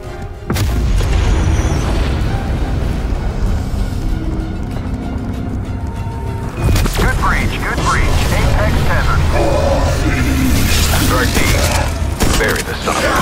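Artillery strike in Call of Duty Cold War Zombies: heavy booming explosions and crackling blasts roll through the second half after a rumbling buildup, loud and dense, with radio-style voices talking over the barrage.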